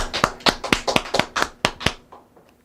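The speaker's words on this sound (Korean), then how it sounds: "박수 한번 칩시다." A congregation in a Korean church claps in unison, about a dozen sharp, evenly spaced hand claps in a quick rhythm, close and loud, ending with a few scattered trailing claps before quiet.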